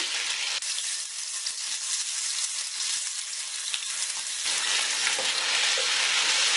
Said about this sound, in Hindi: चिकन को हम अच्छे तरीके से लहसुन के साथ भून लेंगे।